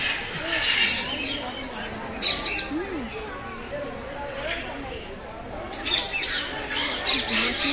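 Parrots squawk and chatter in harsh bursts, some near and some farther off, in Kolkata, while people talk throughout.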